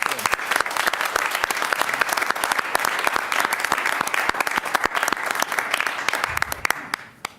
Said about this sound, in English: If I could give them a round of applause.